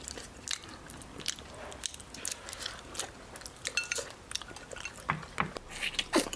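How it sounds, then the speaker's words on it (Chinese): Eating fish from a rural Sichuan home meal, with close biting and chewing sounds, soft crunches and clicks repeating irregularly against a quiet room background. "再吃个鱼儿。"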